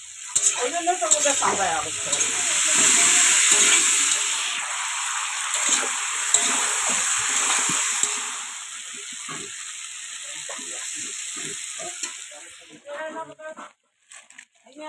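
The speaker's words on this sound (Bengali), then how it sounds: "এখানে প্রথম আমি তেলটা গরম হয়েছিল কি না চিপসগুলো দু তিন চারটা দিয়ে আর কি ট্রাই করে নিলাম" Potato chips frying in hot oil in a home kitchen, giving a loud, steady, close sizzle and crackle that lasts throughout and thins toward the end, with a voice heard faintly at moments.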